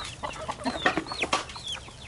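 A pet turkey clucks and calls at an Arizona ranch during Thanksgiving week, giving a string of short, close, fairly loud clucks and chirps over about two seconds.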